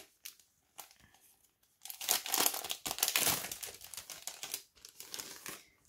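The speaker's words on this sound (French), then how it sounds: "je vais déballer la Memorydex" A Memorydex scrapbooking item is unwrapped by hand from its packaging: close, quiet crinkling and tearing comes in bursts after a nearly silent start, with a few isolated rustles.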